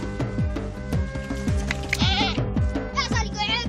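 A goat bleats repeatedly in the hot Danakil desert, wavering cries rising over a steady rhythmic clatter and background noise, loud and close throughout.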